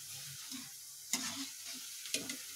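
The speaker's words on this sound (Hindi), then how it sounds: "और इसे इन्हें अच्छे से फ्राई होने दूंगी मैं। अब मैं इन्हें हिलाऊंगी" Poha vada balls frying in oil are stirred, giving a soft, quiet sizzle broken by two distinct scraping clinks of a spoon against the pan, heard close with no speech.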